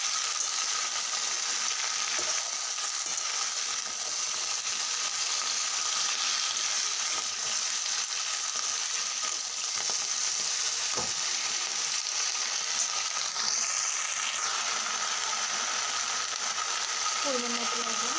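Vegetables sauté in a pan with a continuous close sizzle, steady throughout, broken by a few faint stirring knocks.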